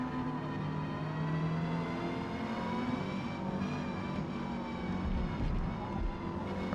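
A Renault 8 Gordini races at the Catalunya circuit in Forza Motorsport, with its engine held at a steady high-revving drone that shifts slightly in pitch under braking and acceleration, close and continuous.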